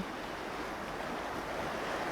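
The Colorado River runs near a trailhead in Rocky Mountain National Park, where its flowing water makes a steady, broadband rushing hiss, fairly faint and continuous, mixed with some wind noise.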